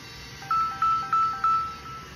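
An incoming call ringtone on a mobile phone repeats four evenly spaced electronic tone bursts, each loud and clear, fading slightly between rings with no talking over it.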